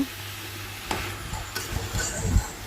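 Kasuri methi chicken with coriander powder and salt is stirred in a pan, with a soft steady sizzle and occasional scraping knocks of the spoon against the pan.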